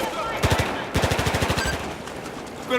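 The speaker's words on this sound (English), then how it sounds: "I can hear gunshots, so there's still some enemies about." Rapid automatic gunfire from the Battlefield 4 campaign (Tashgar mission) comes in several close, loud bursts of machine-gun shots, separated by short gaps, with battle noise between them.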